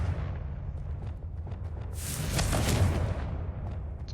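A Confringo blasting spell from Hogwarts Legacy goes off in a sudden rumbling burst with a bright crackling top, rising over a low steady game background and tailing off after about a second.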